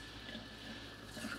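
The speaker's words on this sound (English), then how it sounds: "Just have my sprayer going and rinsing well." Steady hiss of a kitchen sink sprayer rinsing long cucumber spears for pickles, a continuous close water rush with slight splashing variations throughout.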